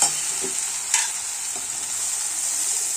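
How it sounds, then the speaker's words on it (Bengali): Spice paste of chili and turmeric powder with a splash of water frying in a pan, a steady close hiss and sizzle with a few soft stirring clinks, no voices. "লঙ্কা গুঁড়ো হলুদ গুঁড়ো দিয়ে সামান্য একটু জল দিয়ে ভালো করে মশলাটা কিন্তু ভেজে দিতে হবে"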